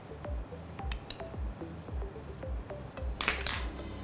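Spoon clinking and scraping against a bowl while salad topping with chili flakes is mixed for a butternut squash Asian salad; regular close taps every half second, with a brighter metallic rattle near the end, no talking.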